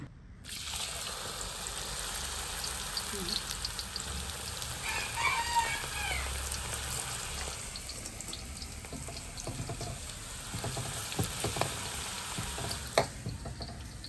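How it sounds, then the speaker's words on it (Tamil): Potato pieces fry steadily in hot oil, giving a continuous soft sizzle and bubbling with occasional clinks and stirring sounds, fairly quiet and close. "அதுக்குள்ள இங்கே எண்ணெய்க்குள்ள கொஞ்சம் கிழங்கு போடுவோம்."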